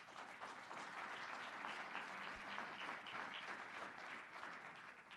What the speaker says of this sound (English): I'm going to ask that everyone refrain from applause